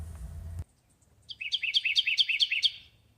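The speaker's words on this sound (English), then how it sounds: "You can hear the birds chirping in the background." A bird chirps a quick run of bright, repeated high notes, fairly close, after a low rumble cuts off; otherwise quiet.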